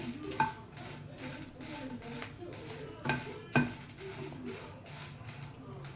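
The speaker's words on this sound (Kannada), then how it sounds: "ನಾನಿಲ್ಲಿ ಬ್ಯಾಡ್ಗೆ ಮೆಣಸು ಹಾಕ್ತಿದ್ದೇನೆ ಒಂದು ಹಿಡಿಯಷ್ಟಿದೆ ಸ್ವಲ್ಪ ತೆಂಗಿನ ಎಣ್ಣೆ ಹಾಕಿಬಿಟ್ಟು ಹುರ್ಕೊಳ್ಬೇಕು" A handful of byadgi chillies fry in coconut oil and are stirred, giving a steady low sizzle. Several sharper clinks of a spatula striking the pan are heard, with no voices.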